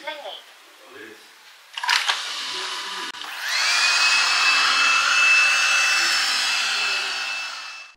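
A motor starts with a couple of clicks and then spins up into a steady high-pitched whirring hum that runs for several seconds before tapering, like a vacuum cleaner running alone nearby.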